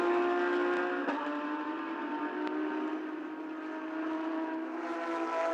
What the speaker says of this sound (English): Now we have the car from Fabio Carboni